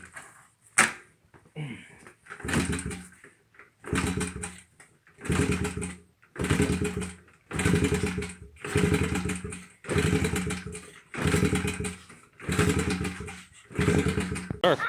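A Honda XR70R motorcycle engine with a slightly overflowing carburetor revs in repeated loud bursts, about ten throttle blips roughly a second apart after a short start, each dropping back to near silence between.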